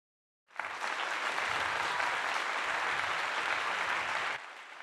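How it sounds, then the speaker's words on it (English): Steady, full applause from an audience swells in abruptly and holds as an even wash of clapping for several seconds before cutting off sharply near the end. "So round of applause for that."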